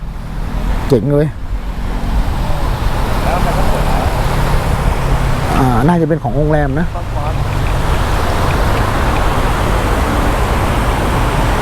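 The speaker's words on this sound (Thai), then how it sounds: "ดูน้ำตกดิ" A waterfall beside a coffee shop in central Chiang Mai gives a steady, loud rushing wash that fills the whole clip, with people briefly chatting over it.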